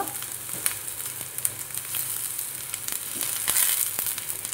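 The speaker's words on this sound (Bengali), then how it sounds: "পেঁয়াজটাকে আমি একটু লাল লাল করে ভেজে নেব" Onions fry in a pan until reddish for a Bengali pointed gourd mash, a close, steady crackling sizzle with scattered pops that swells slightly near the end.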